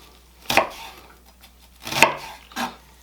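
An onion is chopped on a board with a knife in three sharp strikes, two close together and a third shortly after, each a crisp near thunk.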